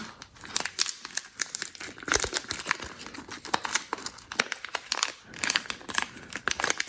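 Plastic packaging from an iPod box is cut and torn open, giving a close, steady run of sharp crinkling, snipping and ripping sounds with no talking.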